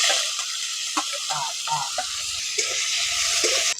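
Loud, continuous sizzling of prawns frying in hot mustard oil, with scraping and stirring clatter in the pan.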